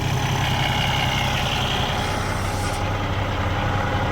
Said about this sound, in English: Just idling away.